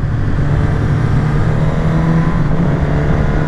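A Suzuki GSX-S 1000 motorcycle engine held around 5000 rpm in second gear, giving a steady, loud, close-up growl with a fixed low hum and no pause or break.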